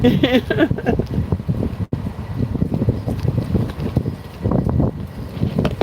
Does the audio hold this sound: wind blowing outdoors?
yes